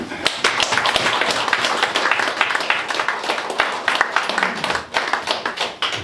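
An audience at a clan association meeting claps steadily and densely for about six seconds, welcoming a newly appointed chairman; the applause stays fairly loud throughout, with no talk over it.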